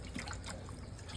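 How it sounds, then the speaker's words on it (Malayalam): Tamarind water is poured into a simmering fish curry, a brief soft liquid trickle and drip, quiet and close, with no voices. "പുളി വെള്ളം ഒഴിച്ചിട്ടുണ്ട്."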